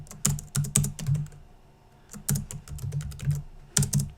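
Keys clatter on a computer keyboard as text is typed into HTML code, in short close bursts of clicks broken by a brief pause.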